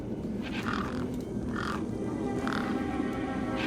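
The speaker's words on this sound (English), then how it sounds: "Those birds weren't going to let me anywhere near the back of the truck." Crows cawing in the Beyond a Steel Sky video game, three or four harsh calls spaced about a second apart over a steady low ambient drone.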